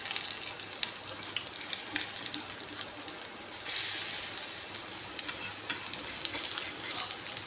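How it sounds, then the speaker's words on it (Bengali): A chopped banana flower mixture for banana flower chops fries in a pan until reddish, with a continuous close hiss of sizzling oil, occasional sharp crackles and stirring scrapes, swelling briefly louder midway. "এটাকে লাল লাল করে ভেজে দিতে হবে।"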